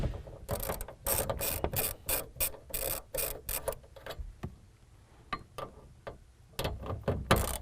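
Close, loud ratchet clicking in quick bursts with short pauses as 7/16 nuts are removed from the strike plate of a Truck Covers USA American Roll Cover on a 2018 Ford F-series truck bed.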